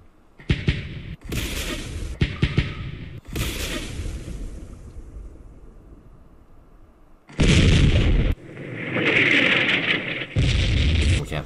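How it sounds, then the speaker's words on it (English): Artillery fire in a Vietnam War strategy game sounds as a run of heavy booming blasts, several in quick succession, then a pause and more thudding impacts with rumbling tails, loud and close. "Once we have the artillery go through."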